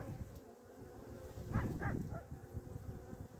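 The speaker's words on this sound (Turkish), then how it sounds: "Kovanda bir sürü erkek arı var şu an." Low droning buzz of honeybee drones in a hive in midwinter, continuous and close, with a couple of louder passes swelling up over the hum.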